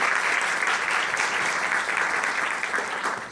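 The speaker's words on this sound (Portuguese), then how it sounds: "Uma salva de palmas para a companheira." An audience at a human rights gathering bursts into dense, sustained applause that stays loud and even for several seconds before starting to taper.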